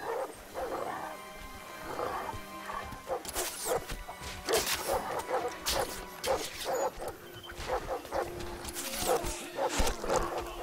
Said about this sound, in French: Nous sommes attaqués. Lâchez les chiens!